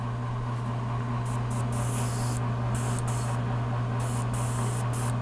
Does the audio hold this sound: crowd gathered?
no